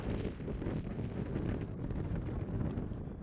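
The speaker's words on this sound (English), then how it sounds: "The wind is a little less here," Steady wind roars across a mountain summit in the Eldorado Wilderness of Nevada, a constant broadband rush buffeting the microphone with no other sounds.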